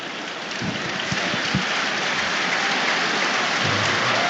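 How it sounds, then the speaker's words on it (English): Steady applause from a football stadium crowd at the Gladys Street end of Everton's ground as substitutes warm up, a broad continuous clapping wash with a few louder claps near the start. "A few Everton substitutes come out to warm up and get some warm applause from the Gladys Street end"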